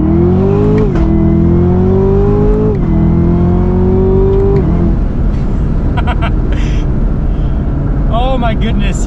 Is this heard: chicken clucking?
no